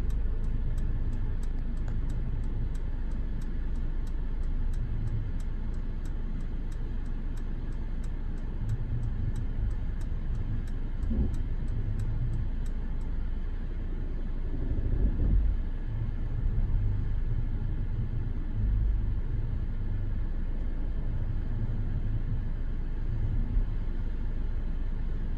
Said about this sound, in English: I'm going to put the GLE into reverse and let the vehicle do what it's going to do